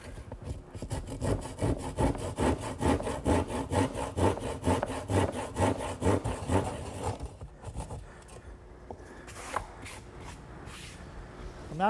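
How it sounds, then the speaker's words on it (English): An old handsaw cuts the corners of a wooden panel on a Shaker two-drawer blanket chest in fast, even back-and-forth strokes up close, then stops, leaving a few light knocks and handling sounds. "now I'll just finish off the corners using my trusty old handsaw"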